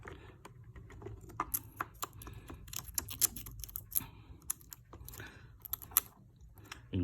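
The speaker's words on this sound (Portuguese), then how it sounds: "Volta a passar de novo, né? A lâmina do estilete." A utility knife blade being run around a battery inside a Pulse speaker produces a series of close, sharp little scratches and clicks. They come irregularly over a low rustle of handling, and no one speaks.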